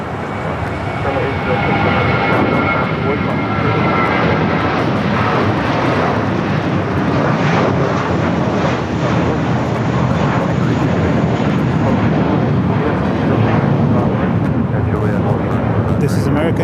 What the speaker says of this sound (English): runway 25 right, clear for takeoff